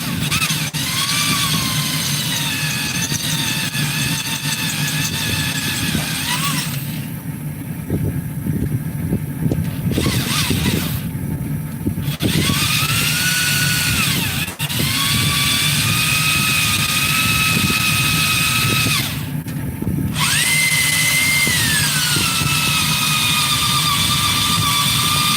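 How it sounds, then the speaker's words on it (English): High-speed drilling, a continuous loud whine running almost the whole time with only brief pauses, over low machinery rumble. "I hate drilling that fast."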